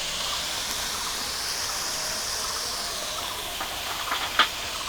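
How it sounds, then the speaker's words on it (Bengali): Mustard paste goes into a pan of eggplant and hilsa fish frying in oil, setting off a loud, steady sizzling hiss that holds throughout, with a brief clatter near the end. "এবারে আমি এই সর্ষে বাটাটা দিয়ে দেবো।"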